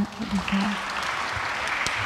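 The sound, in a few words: audience applause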